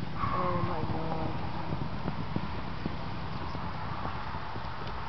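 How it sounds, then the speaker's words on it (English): A horse cantering on the right lead in an outdoor arena, its hoofbeats thudding in a steady rhythm under wind noise, with people talking nearby. "Let's try your right canter lead."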